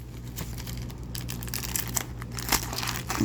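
A package of silver coins being opened during an unboxing, close crinkling and rustling of plastic and paper with small tearing and crackling noises throughout.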